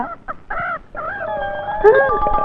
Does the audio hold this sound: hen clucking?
yes